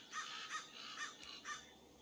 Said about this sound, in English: Birds are annoying, I swear.